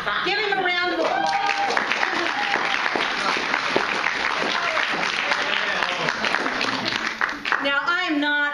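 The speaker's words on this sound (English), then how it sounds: "Give him a round of applause." Audience applause fills the space with dense clapping, with a voice speaking at the start and again near the end.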